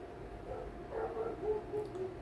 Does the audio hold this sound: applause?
no